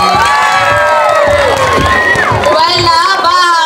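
A pageant crowd at a Miss Gay Queen of Pearl national costume round cheers, shouts and whoops loudly and continuously, with high excited voices rising over a dense close roar.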